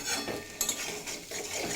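Fried potatoes being stirred into a vegetarian drumstick curry in a pan, with short metallic scrapes and clinks of a spatula against the pan over a soft sizzle, close and brief.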